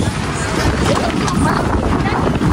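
Strong wind roars and buffets the microphone continuously at an outdoor street food stall, a dense rushing noise with voices faintly mixed underneath.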